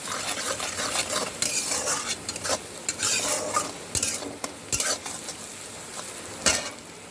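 Spices such as chili, cumin, turmeric and coriander frying in oil, crackling sizzle under frequent scraping and clinking of a stirring utensil against the pan, close and moderately loud.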